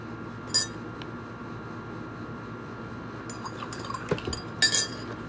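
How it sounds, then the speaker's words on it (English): A spoon stirs hazelnut coffee creamer into a cup of coffee, with a steady soft swishing and a few bright clinks against the cup near the end. "I'm gonna add in a little bit of my favorite creamer, which is Coffee Mate Hazelnut. I'm gonna stir that in."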